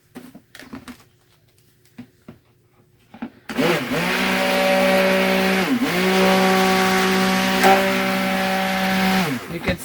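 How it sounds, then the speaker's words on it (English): Electric hand mixer blending soap batter with rice flour for hemp oil soap, a steady loud motor whine that starts abruptly after a few quiet taps and runs continuously, pitch dipping briefly as the beaters move through the thick batter. "This one I'm going to blend a bit with the hand mixer just to make sure I get that rice flour incorporated really well."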